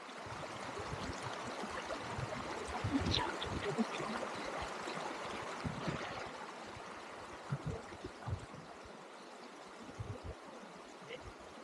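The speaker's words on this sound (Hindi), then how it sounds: "झरने की आवाज" Steady rushing water pours and trickles continuously, a broad wash of noise from a nearby fall with no breaks.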